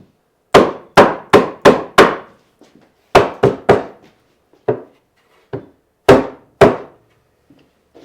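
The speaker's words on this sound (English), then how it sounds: "Do a little pounding here." A hammer pounds on a wooden under-table-saw storage cabinet in a workshop, striking in quick bursts of three to five sharp, loud knocks with short pauses and some lighter taps between.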